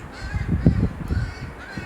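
Crows caw in a dense flock, several overlapping calls rising and falling at moderate distance, with no talking.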